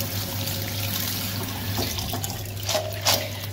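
Water splashing and dripping as glutinous rice and mung beans are rinsed, with a low steady hum underneath and a few brighter splashes near the end, close and fairly quiet, no talking.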